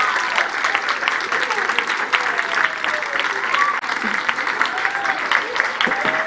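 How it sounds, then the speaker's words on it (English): An audience at a youth dialogue event on climate adaptation applauds, with dense, lively clapping continuing steadily for several seconds, some voices faintly mixed in. "please just give a big applause"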